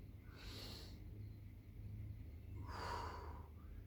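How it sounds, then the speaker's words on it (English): Full exhalations during a workout stretch at home: two breathy rushes of air, the first short and the second longer and stronger, close to the mic with no talk. "full breath out."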